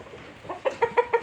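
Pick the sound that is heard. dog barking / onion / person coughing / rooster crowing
rooster crowing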